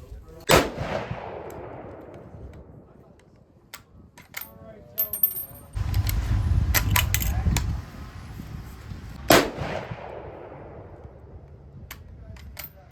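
A Carcano rifle loaded from a 3D printed clip fires a couple of sharp, loud shots that ring out and decay, separated by metallic clacks of the bolt cycling and a spent case tinkling down, recorded up close.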